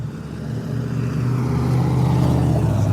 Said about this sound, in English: Here comes the white SUV.